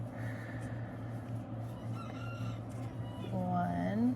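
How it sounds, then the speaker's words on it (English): Chickens crow and cluck in the background during a crochet lesson, with a rising crow standing out near the end over a steady low hum. "there go my chickens again"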